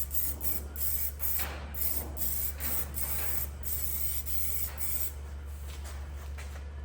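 Weldable zinc primer sprayed from a can onto the seams of a Mazda MX5 NB chassis rail in a garage: repeated short hissing bursts in an uneven rhythm over a steady low hum, close and fairly loud.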